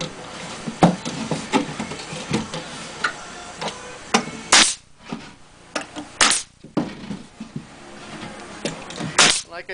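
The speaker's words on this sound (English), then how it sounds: "take the nail gun, nail one in on each side from the front to the back, level with the top" A nail gun fires into a wooden rabbit nest box, sharp loud cracks at irregular intervals over lighter tapping and handling clatter, with occasional speech nearby.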